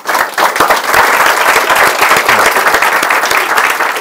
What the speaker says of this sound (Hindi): Let's give a big hand for it.